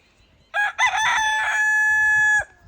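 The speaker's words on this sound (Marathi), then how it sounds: "आधीच्या काळामध्ये सकाळचा अलाम असायचा तो म्हणजे कोंबड्याची बाग" A farm rooster gives a single loud, close crow, a short opening burst followed by one long sustained call lasting nearly two seconds, with quiet rural background before and after.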